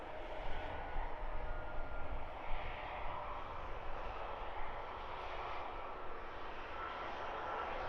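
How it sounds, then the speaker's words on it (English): A Ryanair Boeing 737-800 jet airliner bound for Seville at Luton Airport makes a steady, broad engine roar, loud and continuous with no pauses, heard alone without talk. "The Ryanair off to Seville 737-800, about to photobomb"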